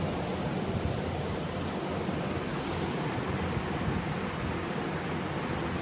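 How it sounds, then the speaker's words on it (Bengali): Corn fritters (bora) deep-frying on very low flame in plenty of hot white oil in a wok, a dense, even hiss of bubbling oil throughout, close and steady with no talking. "খুব লো ফ্লেমে এই বড়াগুলো ভাজতে হবে।"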